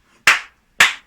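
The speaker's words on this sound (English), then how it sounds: "2 claps" Two sharp, loud hand claps spaced about half a second apart during a tap dance class, close and crisp, with near silence before and between them.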